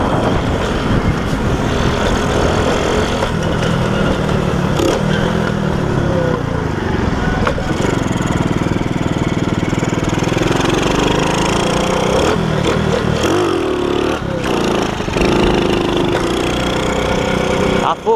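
Moby moped engine running loudly and close, its buzzing idle rising and falling through several uneven revs over a long, continuous stretch, with a voice briefly heard under the noise.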